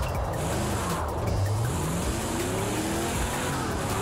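A Chevrolet Camaro Z/28 muscle car drifts in a VR racing video game with a drift mod, its engine droning loudly and steadily while tires squeal with rising and falling pitch throughout.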